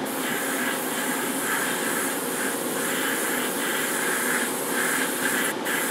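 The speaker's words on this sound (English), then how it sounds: "It's a little noisy with my spray booth fan on" A spray booth ventilation fan runs steadily with a broad airy hiss and faint rumble, unbroken for several seconds with no talking.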